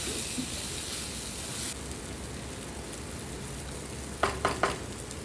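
Eggplant frying in masala for a Tamil kathrika gravy, a faint continuous sizzle with a few sharp spoon knocks against the pan near the end, no voices.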